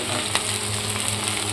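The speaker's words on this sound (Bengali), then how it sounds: "আমার কিন্তু সবজিগুলো ভাজা অলমোস্ট কমপ্লিট হয়ে গেছে।" Vegetables for chilli paneer fry in hot oil with a dense, steady sizzle and faint stirring, loud and close throughout.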